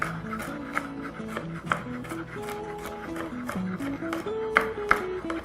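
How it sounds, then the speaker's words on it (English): Sharp knife taps dice broccoli against a cutting board in an uneven rhythm, soft and close, with a few louder chops standing out over faint background music. "I'm going to dice it into small pieces so that it steams faster"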